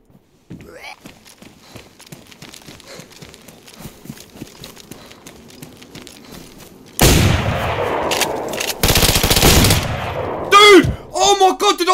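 Video game gunfire in a rapid chaotic battle: light crackling shots and footsteps early, then loud sustained bursts of automatic fire and explosions dominating the second half, with someone shouting over it.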